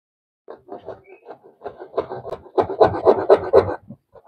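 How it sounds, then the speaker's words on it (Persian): A bare saw blade without a handle cuts through wood while building a perch for cockatiels, giving close, uneven rasping strokes that grow faster and louder toward the end, with no talk. "با یه اره دیگه امتحان کنیم"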